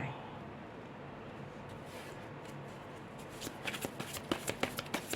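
Tarot cards shuffled by hand: soft sliding and rustling at first, then a quick run of close, rhythmic riffling flutters toward the end, with faint voice in the background.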